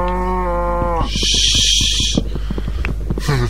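Minecraft cow giving a single drawn-out moo, harmonic and steady for about a second, followed by sparse game clicks and tapping blocks as trees are chopped, no speech.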